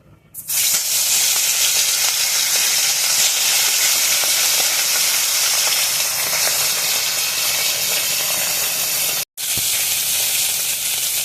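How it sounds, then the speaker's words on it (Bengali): Fish pieces coated with salt and turmeric fry in hot oil in a kadai, giving a loud, continuous sizzling hiss that starts abruptly and holds steady, with one brief dropout. "কড়াইতে তেল দিয়ে দিয়েছি তেলটাও গরম হয়ে গেছে এখন মাছগুলো ভেজে নেব"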